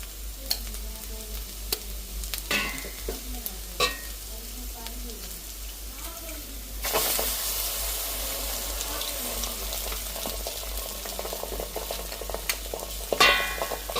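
Beaten egg hits a hot pan and breaks into a loud, steady sizzle partway through, preceded by scattered clinks and stirring sounds, with quiet talk in the background.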